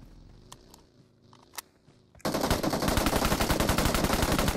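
PUBG Mobile gunfire: a few quiet taps, then a sudden sustained burst of rapid automatic shots, loud and close, running to the end.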